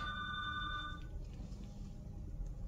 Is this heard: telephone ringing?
yes